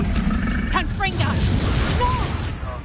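Confringo fire spell blast in Hogwarts Legacy: a loud roaring burst with whooshing flares, and a voice shouting over it.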